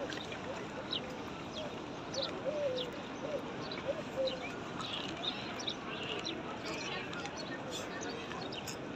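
Birds calling and cooing at a seaside marina, with short chirps and coos scattered over steady outdoor ambience and a voice talking.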